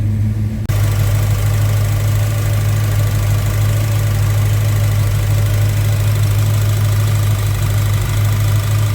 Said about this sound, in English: That ticking is the fuel injector firing.